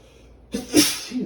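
A single close, loud sneeze from a person, a sharp burst after a short quiet inhale, with a faint tail as it fades.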